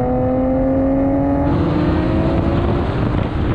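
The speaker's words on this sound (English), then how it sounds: "Now we can have a rolling race from 30 miles an hour with the cars in second gear." Nissan GT-R cars in second gear accelerate hard from 30 mph in a rolling drag race, engines droning loud and close with rising tonal whine, then a gear change shifts the pitch around midway as the roar carries on.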